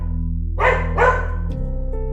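A dog barks twice in quick succession indoors, fairly close and clear, over a steady low electrical hum, then goes quiet.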